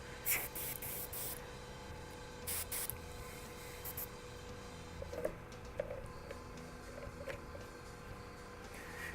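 An airbrush spraying Vallejo paint for miniature painting gives soft, close hissing bursts of varying length, several short puffs, then quieter spraying.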